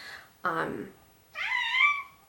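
A domestic cat gives two distinct meows, the first lower and voiced, the second higher and drawn out, both close and fairly clear with a short pause between them.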